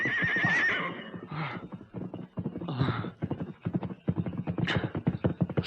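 A horse in a Western radio drama, starting with a loud shrill whinny and then steady clip-clop hoofbeats drawing near, with more snorting neighs mixed in and no voices.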